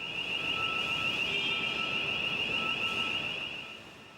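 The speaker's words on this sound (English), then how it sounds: "If there is a fire or other reason to evacuate the building, you will hear the fire alarm. This will be a continuous tone." A building fire alarm sounds one loud, continuous high tone that holds steady for several seconds and then fades toward the end.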